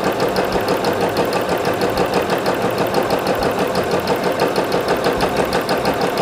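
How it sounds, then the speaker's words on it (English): A sewing machine runs in reverse and then forward on a straight seam, giving a loud, close, steady rapid mechanical rattle that holds an even rhythm throughout. "I'm going to sew in reverse to lock the stitch, then I'll continue sewing"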